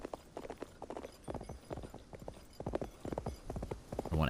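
Horse hooves clip-clop in the Wild West video game Cowboy Life Simulator, a busy run of close, rhythmic hoofbeats at a steady trot throughout, fairly clear with no voices over them.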